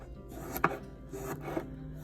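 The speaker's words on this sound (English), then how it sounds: "I just kind of mush it till it gets to a crumbly consistency" Homemade sugar lip scrub mushed by hand into a crumbly mix, giving close, gritty scraping and crunching strokes, with two sharper grainy bursts and no talking.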